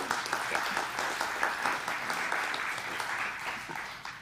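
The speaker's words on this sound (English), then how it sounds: "I just want to start by giving her a round of applause" An audience in a church gathering breaks into steady, fairly close applause that continues evenly throughout, with a few voices mixed in faintly.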